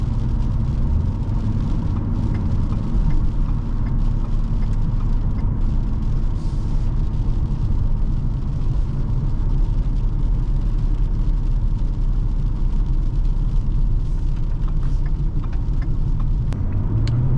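A 2014 Ford Taurus Police Interceptor with a 3.7L engine cruises gently, heard from inside the cabin as a steady low engine drone and road rumble at constant volume with no talking.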